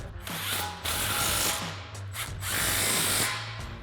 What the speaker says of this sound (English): Grab your 1/2" ratchet, 22 millimeter socket, tighten them down.